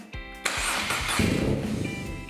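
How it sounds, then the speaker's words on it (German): A motorcycle engine cranks briefly with a starter whir, then catches and settles into a steady, close idle. "Nun starten wir den Motor."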